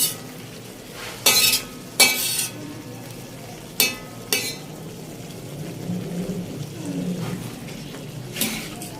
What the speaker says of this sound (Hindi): अब इस कलेजी को दोबारा से हम जो है ना इसमें मिक्स करेंगे और इसे पकाएंगे मसाले के साथ ही।